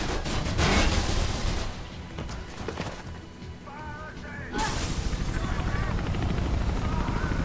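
Enemies fire guns in Mirror's Edge, dense bursts of gunfire mixed with a roaring helicopter, loud and continuous, easing briefly before a heavy barrage returns, with someone talking over it.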